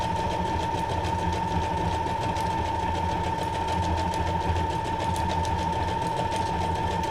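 Sewing machine stitching through folded paper book signatures, a steady continuous mechanical whir with a rapid needle rhythm running throughout at moderate, close level, no talking.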